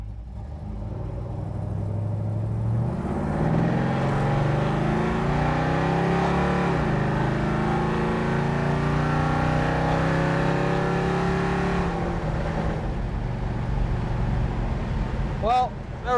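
A 1969 Dodge Super Bee engine drones loudly and steadily while the car is being driven, with rising and falling harmonics as revs shift, plus a brief whistle-like chirp near the end.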